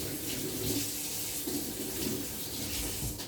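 Water pours steadily into a cooking pot while a chicken and rice dish is being prepared, a soft continuous splashing stream with no voices.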